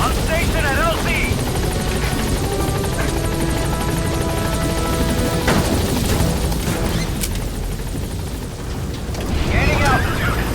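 The Pequod helicopter in Metal Gear Solid V thunders steadily at close range with a dense rotor roar throughout, and radio voices and chatter speak over it.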